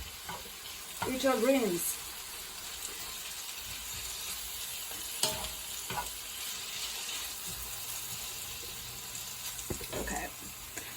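Beans, chard and mushrooms frying in olive oil in a pan, a low steady sizzle running throughout with occasional stirring clatter and a brief voice speaking near the start.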